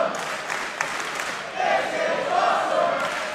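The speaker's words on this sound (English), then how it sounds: "And listen to this crowd." A crowd at a Lucha Libre wrestling match in Mexico roars and cheers steadily, building slightly louder midway, with no voices standing out.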